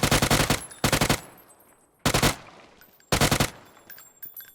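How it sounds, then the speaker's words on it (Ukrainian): Automatic gunfire rings out during a shootout in the PUBG battle royale video game, with four loud sustained bursts of rapid shots separated by brief gaps, followed by a few fainter, sparser shots. "Зараз буде перестрілочка."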